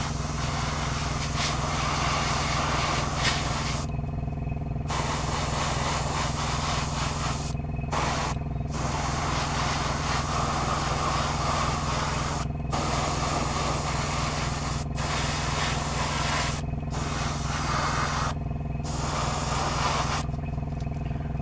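Spray paint hissing onto transparent plastic parts of a Bandai 1/12 scale C-3PO model kit in light coats, a steady close hiss broken by several short pauses between bursts, under a low constant hum.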